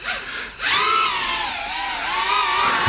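Eachine Q90C FPV racing drone's small motors whining steadily in flight, a high buzzing tone that drops out briefly near the start, then rises and wavers in pitch as the craft maneuvers, close and continuous with no talk.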